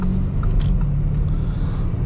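A Lamborghini Urus in sport mode gives off a deep, steady engine and exhaust rumble, loud and close, with a heavy low drone that holds without a break.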